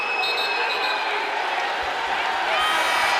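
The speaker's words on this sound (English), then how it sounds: "As we hear the crowd get into it" Basketball arena crowd during a close college game, Bradley Braves at UAB Blazers, a steady dense roar of voices swelling slightly louder toward the end, with faint shoe squeaks and bounces underneath.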